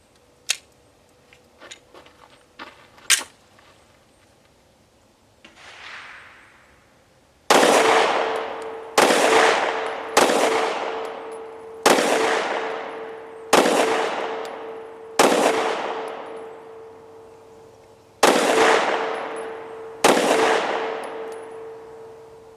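A Rock Island Derya DY9 shotgun is fired outdoors: a few light clicks and metallic handling sounds first, then about ten loud, sharp blasts at roughly one-second intervals, each with a short decaying echo, with a brief pause in the middle.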